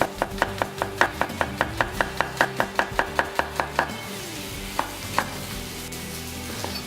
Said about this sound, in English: Just going to slice those that way quite fine.